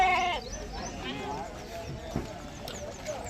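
Lambs or goat kids bleat at the Gauribidanur livestock market, close by and intermittent, under near-constant talking, with hoof clatter and crowd bustle behind.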